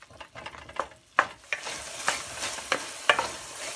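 Garlic ginger paste frying in a pan, a soft close sizzle broken by several sharp scrapes of a spoon stirring, no voices.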